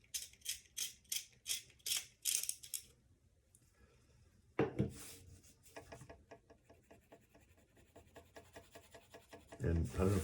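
An H graphite pencil is sharpened in quick, rhythmic rasping strokes that come in two separate bursts with a short pause between them. The sound is close but quiet.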